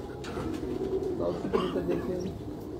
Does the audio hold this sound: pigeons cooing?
yes